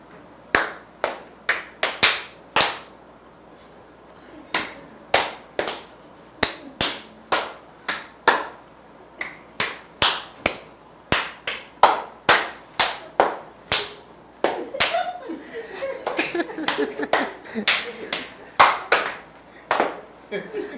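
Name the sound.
group clapping hands in a passing wave game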